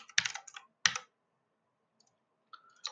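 Quick bursts of clicky keystrokes on a computer keyboard while typing JavaScript code, two short flurries followed by a pause and a few sparse, lighter taps, close and clear with no talking.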